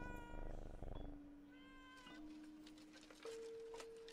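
A weird toy cat meows repeatedly in the horror game Layers of Fear: Inheritance, drawn-out tonal cries rising and holding, the last one long and steady, close and fairly loud over quiet eerie ambience.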